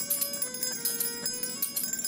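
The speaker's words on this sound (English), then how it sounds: "bells rang 19 times for the victims and the survivors" Memorial bells ringing 19 times for shooting victims and survivors, with a shimmering, sustained metallic tone, repeated strikes blending into a continuous wash, fairly distant and steady.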